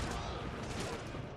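Cannon and musket fire in a Total War Shogun 2 siege battle: a dense, continuous roar of rumbling volleys and booms that stays loud and even throughout.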